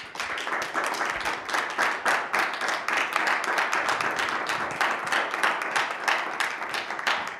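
An indoor audience claps steadily for several seconds, a dense even patter of many hands at moderate volume with no voices over it.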